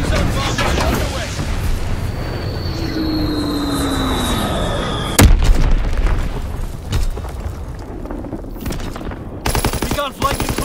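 Bomb explosions in a war video game: loud, dense bursts of machine-gun fire and booming blasts roll on throughout, with one sharp, heavy impact near the middle and voices mixed in.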